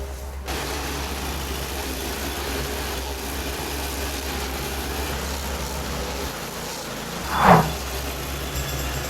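An SHP400 stump grinder's engine runs at a steady drone while working a jacaranda stump outdoors, loud and continuous with one brief sharp knock near the end, no voices.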